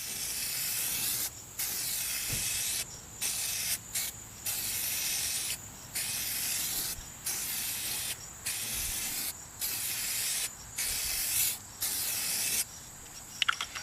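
An aerosol can sprays a second coat of clear onto a restored vehicle headlight in repeated hissing bursts of about a second each, with short pauses between passes, steady and close.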